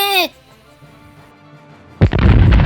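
A triple-mounted gun turret on a 3D CG aircraft carrier design fires once, a sudden loud blast that follows a brief voiced call and a quiet pause, then rolls on as sustained heavy booming noise.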